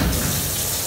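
Water runs from an elbow-operated tap into a hospital sink, a brief steady gush heard close and alone.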